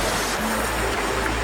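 A river flowing in a steady, broad rush of water, close and continuous, with no voices over it.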